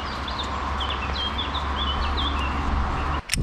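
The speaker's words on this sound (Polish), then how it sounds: "przy takim śpiewie ptaków grzechem byłoby siedzieć w warsztacie" Birds sing outdoors beside a bicycle workshop, several high chirps and trills repeating over a steady ambient hum, with a brief clunk near the end.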